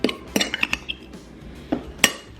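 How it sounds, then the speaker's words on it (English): Warm salmon being mashed into warm rice in a bowl with a utensil, giving a few close, sharp clinks and scrapes against the bowl in an uneven rhythm, with no talking. "I'm just gonna mash up the salmon and mash it into the rice"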